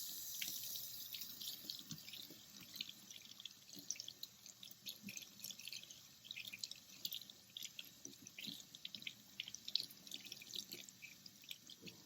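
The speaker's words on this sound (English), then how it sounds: "we're going to rinse off that conditioner" Tap water runs steadily over a Barbie doll's hair to rinse out conditioner, a soft continuous splashing with small irregular drips and spatters, fairly quiet and close.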